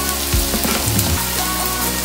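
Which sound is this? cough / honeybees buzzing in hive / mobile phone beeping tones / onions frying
onions frying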